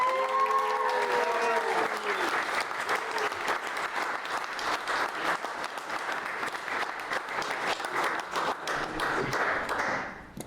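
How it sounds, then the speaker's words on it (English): Warm, sustained applause from wedding guests for Amy during the speeches, starting over a voice and cheers, holding steady as a full crowd of clapping hands, then cutting off at the end. "So a round of applause for Amy."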